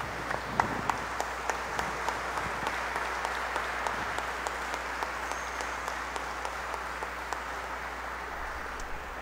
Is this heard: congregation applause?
yes